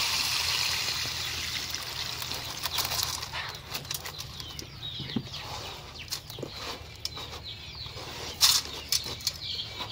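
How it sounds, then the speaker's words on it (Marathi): Water from washed okra seeds is poured through a sieve, a soft uneven trickle and splash running steadily throughout, with scattered small clicks and taps from the vessel. "आता आपल्याला राहिलेलं जे पाणी आहे चाळणीमध्ये टाकून"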